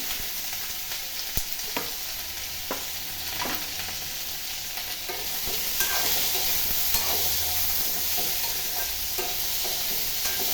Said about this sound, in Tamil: அது கொஞ்சம் நேரம் வதங்கட்டும் இப்போ நம்ம கட் பண்ணி வச்சுருக்க தேங்காவும் சேர்த்துக்கலாம்